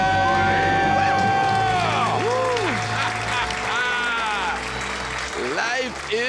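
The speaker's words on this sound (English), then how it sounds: "Let's hear a debt-free scream." A caller who has just paid off his debt and a radio studio crowd let out a loud joyful scream and cheering, with whoops and bursts of shouting rising and falling over a few seconds.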